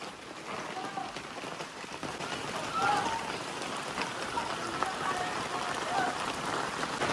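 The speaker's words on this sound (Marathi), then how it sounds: "बघा पाऊस पडतोय जोरात" Heavy unseasonal rain falling in a Konkan village, a steady wash of drops hitting surfaces, with birds chirping faintly and someone speaking over it.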